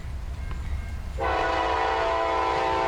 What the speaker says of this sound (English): Maintenance of way trains.